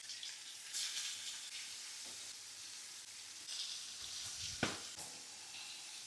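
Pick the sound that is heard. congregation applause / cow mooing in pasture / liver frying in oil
liver frying in oil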